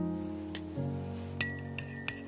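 A spoon stirs a seasoning mixture of chicken bouillon powder, five-spice, pepper, annatto oil and fried garlic oil in a bowl. A few light clinks of metal against the bowl ring out over a low hum.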